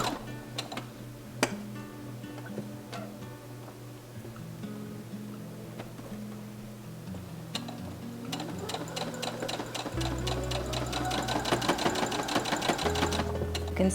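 A sewing machine stitches minky fabric for a pullover top, running in short bursts of rapid ticking and then in a longer steady run that builds toward the end, close and with no talk.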